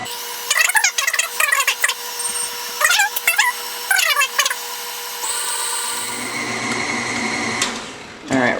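Electric hand mixer beating lemon pound cake batter, a steady close whirring hum that settles in after a few seconds, with a person talking over the start.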